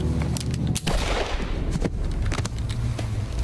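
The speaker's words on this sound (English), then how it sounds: "Good gun sound, though, I must admit." Gunfire in the Mafia 3 video game, several loud sharp shots cracking over a dense, busy background of game noise and ambience, with a few spaced bursts.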